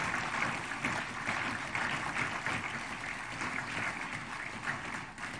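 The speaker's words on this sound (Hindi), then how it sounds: "हम सबकी प्रेममय व्यवहार में हमारी तालियों की गड़गड़ाहट उन तक पहुंचती रहे।" An audience claps at a formal ceremony honouring President Draupadi Murmu, a soft, distant, continuous wash of many hands that sounds faint and roomy, with no voices over it.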